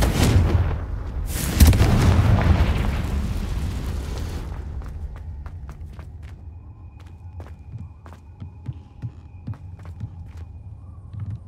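Confringo fire blast spell from Hogwarts Legacy, a loud roaring burst and explosive rumble at the start that fades, followed by quieter footsteps and sparse clicks.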